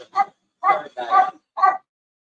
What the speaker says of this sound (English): that doggone dog